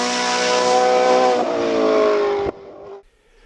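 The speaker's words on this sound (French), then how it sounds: "Julien Français avec l'autre F3000 du team Petit qui s'offre un top 10" An F3000 single-seater race car screams past at the La Pommeraye hillclimb. Its engine holds a loud, high revving note that drops in pitch as it passes close by, then cuts off abruptly and fades to near silence.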